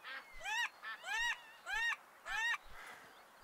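Ducks in the Duck Dynasty video game give four or five loud nasal honking quacks in an even rhythm, close and alone against a quiet background.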